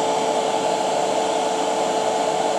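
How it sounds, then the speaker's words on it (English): A small hair dryer blows at a steady, loud, unbroken whir from close by, heating a golf cart battery, with no talking. "I'm gonna use a little hairdryer and see what we get."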